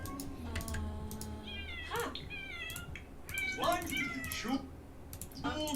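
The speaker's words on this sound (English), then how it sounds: "I like how there's cats and, like, meowing and playing in the background." Cats in The Sims 4 meow repeatedly, giving several rising, drawn-out calls at moderate volume over continuous game background sounds.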